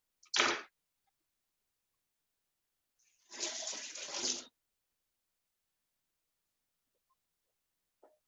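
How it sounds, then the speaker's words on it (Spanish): Cooked legumes being rinsed under cold water to stop the cooking, heard as two short bursts of running, splashing water with a pause between, then a faint clink near the end; no talking. "se corta la cocción con agua fría"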